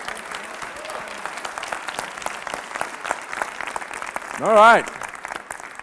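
Applause from a high school audience for a student named Ryan at a school assembly, a short burst rising near the end under continuing talk from the speaker.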